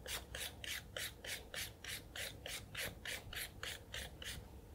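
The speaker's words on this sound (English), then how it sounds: "So, peel. Start from the top, work your way down." A peeler scrapes down parsnips in a steady series of about a dozen evenly spaced rasping strokes, each a short, close, dry scrape. The sound is fairly quiet, with no talking heard.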